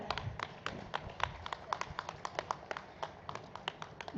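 An audience applauds at a team introduction gathering, with scattered, uneven claps from a modest group of people rather than a dense ovation, continuing steadily throughout.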